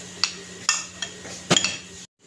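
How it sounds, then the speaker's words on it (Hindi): Spices being mixed into food in a pan, a few sharp metallic clinks and scrapes of a spoon against the pan at irregular intervals, close and fairly quiet, ending abruptly. "डालने के बाद इसको हमने अच्छे से मिक्स कर लेना है।"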